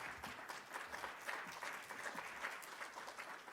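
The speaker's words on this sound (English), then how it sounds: "They all deserve a round of applause." A library audience applauds the participants at a closing ceremony, steady dense clapping heard faintly and at a distance, with no talk over it.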